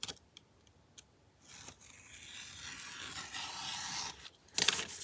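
Scissors cutting a glassine paper bag, a few faint snips followed by a longer rasping, scraping cut and a louder crisp snip near the end, close and with no talking.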